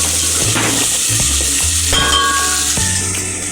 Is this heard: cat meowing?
no